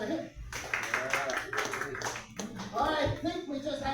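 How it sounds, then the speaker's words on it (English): Scattered audience clapping at an evening news-style show, fairly close, with people talking over it throughout. "please show your applause for"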